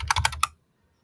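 A short burst of four or five quick keystrokes on a computer keyboard, close and crisp, followed by silence.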